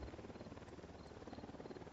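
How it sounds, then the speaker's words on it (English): Helicopter flying overhead in the video game Ghost Recon Wildlands during a night infiltration of an enemy base, a steady, continuous rotor drone holding at moderate level throughout without talk. "And that's a heli, you don't want that spotting you."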